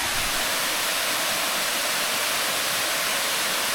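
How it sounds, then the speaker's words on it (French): A waterfall near a hidden village in Colombia pours with a loud, continuous rushing hiss. The sound is close and unbroken, with no talking over it. "Et pour la cascade, la voici."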